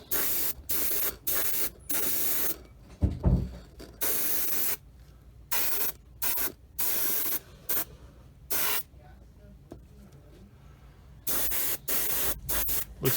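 Spray paint applied in white coats to a model, sounding as a series of short hissing bursts, some close together and some spaced apart, with quiet pauses between them.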